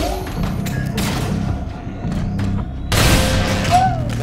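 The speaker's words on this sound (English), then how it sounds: "This is like a grenade launcher!" Heavy thumping blasts from a grenade launcher in the Star Wars PSVR2 video game, several dull booms followed by a louder burst near the end, with game noise in the background.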